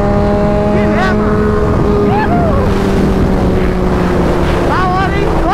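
A 149cc motorcycle runs flat out near 180 km/h, its engine a loud, strained drone with rising whines at gear changes, heavily buffeted by wind rushing over the microphone.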